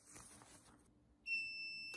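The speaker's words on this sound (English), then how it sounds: "Okay, that timer's up." A heat press timer for mug sublimation gives a steady high electronic beep that starts abruptly after quiet handling noise and holds faintly to the end.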